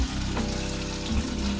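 Chicken frying in hot oil in a pan gives a steady, close hiss of sizzling that runs without a break for under two seconds, with no talk over it.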